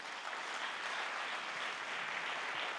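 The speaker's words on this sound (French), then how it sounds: "On peut les applaudir très fort." Steady, dense applause from an audience at a closing ceremony, a continuous wash of clapping at moderate distance with no pauses.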